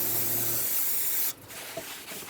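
Brake parts cleaner sprays hard onto a rear brake rotor of a 2018-2024 GMC Terrain, a loud continuous hiss lasting just over a second before cutting off, followed by faint workshop rustling.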